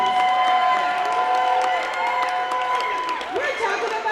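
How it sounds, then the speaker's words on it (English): An audience at a school spirit event claps and cheers, with a dense crowd roar and shouts under a sustained sustained tone and some voices. "let me hear you make some noise by way of applause"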